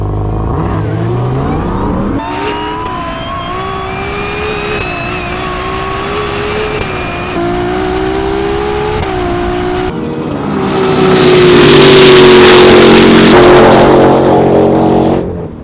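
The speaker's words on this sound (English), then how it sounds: "We have a Ferrari 812 GTS V12 front engine rear drive car. We have the brand new Dodge Demon 170." A Ferrari 812 GTS with a front-mounted V12 and a Dodge Demon 170 accelerate hard for a street-style drag launch on an unprepped surface, loud engines rising through the gears and ending in a roaring, broad blast.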